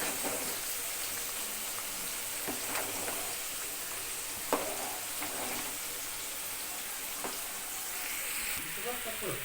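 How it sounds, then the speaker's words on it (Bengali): Beans, carrots and peas frying for fried rice, a soft continuous sizzle with occasional sharper crackles and stirring clatters, fairly quiet and steady throughout. "রাইসের বিনস গাজর মটরশুঁটি সব কিছু ভাজা চলছে"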